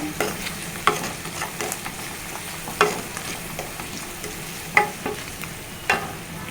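A spoon stirs bottle gourd and tomato curry frying in a pan, scraping strokes landing about once a second over a soft, steady sizzle.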